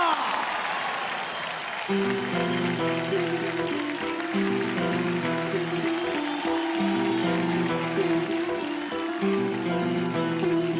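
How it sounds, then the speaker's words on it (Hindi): Loud, steady crowd applause at an awards show swells at first, then continues beneath a rising musical tune with sustained tones as the music takes over. "जोरदार तालियां हो जाएं। जोरदार तालियां।"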